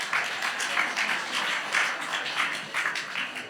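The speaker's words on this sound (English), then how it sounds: "let's give a round of applause for Team Bongo Browser" A small audience claps for a team at a hackathon demo session, moderately loud, uneven clapping that rises and dips in bursts over a few seconds.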